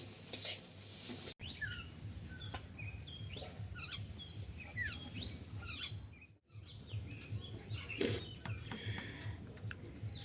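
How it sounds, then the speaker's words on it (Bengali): Taro leaves (kochu shak) fry and get stirred in a pan, giving a steady sizzle with scraping and utensil clinks, while birds chirp faintly in the background; a brief pause interrupts the cooking sounds midway. "কচুর শাকটা ভেজে নিচ্ছি"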